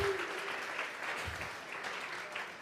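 A church congregation at a Sunday morning service gives applause offered to God, a dense, steady clatter of many hands clapping at moderate distance for a few seconds.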